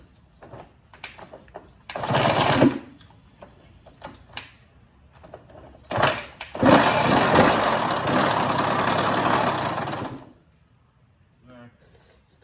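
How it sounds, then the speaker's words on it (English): A Suzuki RM85 two-stroke dirt bike with a persistent engine noise fault: bursts of buzzy revving come and go, with a long, rough idle in the middle, between stretches of someone talking nearby. "The bike kind of idles now"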